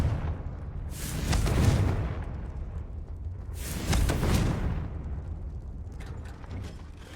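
Confringo explosive curse spell cast in Hogwarts Legacy: two loud bursts with heavy low rumble and crackling tails, a couple of seconds apart, close and alone with no talking.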